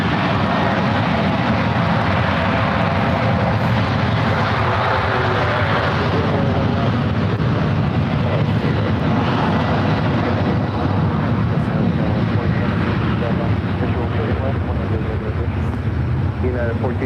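An airliner lands at San Francisco airport: a steady, loud broadband jet roar that holds for the whole stretch, with people talking over it throughout.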